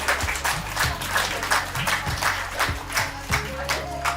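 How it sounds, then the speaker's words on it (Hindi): Rhythmic group clapping at a Yoga Day session, steady repeated beats in unison with a background tone or music underneath, moderately loud. "तालियां बजाइए जोरदार"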